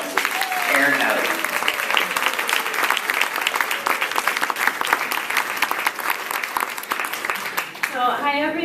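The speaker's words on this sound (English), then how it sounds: "if you would welcome her with a round of applause" At a silent auction event, an audience applauds steadily to welcome a volunteer speaker, a loud continuous round of clapping that fades near the end as a voice begins.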